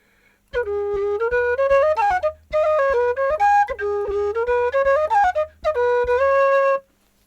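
A low, mellow whistle plays a flowing tune of held and shifting notes, loud and close, with short breaks between phrases.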